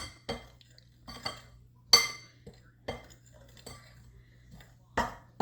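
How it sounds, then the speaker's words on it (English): A spoon clinks against a bowl while white sugar is mixed into banana blueberry scone batter, giving sparse, close, irregular taps with quiet pauses between them. "1/4 of a cup white sugar, and I'm just going to mix that all up"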